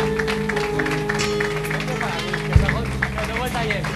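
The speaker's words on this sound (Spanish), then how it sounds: "Un aplauso para Joaquín." An award-ceremony audience at a KWC final applauds a prize winner, a steady spread of clapping under continuous talk from a presenter, with one brief thump partway through.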